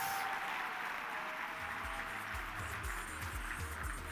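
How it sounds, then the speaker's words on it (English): Audience applause at a data festival, a steady broadband wash of clapping with some low thumping mixed in, moderately loud and continuous. "Ladies and gentlemen, give yourselves a round of applause"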